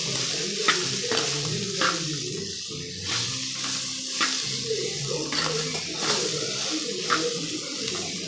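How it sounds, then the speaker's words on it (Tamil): Brinjal and broad beans are sautéed in hot oil, giving a steady sizzle broken by repeated scraping stirs of a spatula in the pan at a fairly regular rhythm. "இவங்களையும் இந்த எண்ணெயிலே போட்டு நல்லா வதக்கிக்கணும்."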